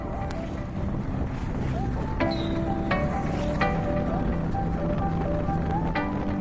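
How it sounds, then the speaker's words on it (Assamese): Continuous wind rush from riding a motorbike through light festival-season traffic in Moran during Durga Puja, with scattered short horn-like beeps and a voice talking over it. "এইবাৰ কিন্তু বাইক চলাই ভাল লাগিছে"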